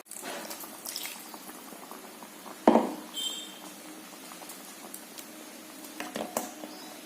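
Fish curry with ground coconut and raw mango bubbles quietly in a pot, with a soft, steady simmer and a few louder knocks and clatters near the middle.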